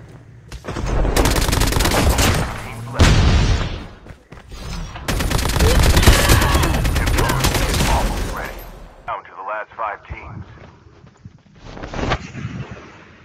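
Loud bursts of rapid automatic gunfire rattle in Call of Duty Mobile, with long sustained volleys broken by short pauses, then quieter scattered shots while players talk over the action.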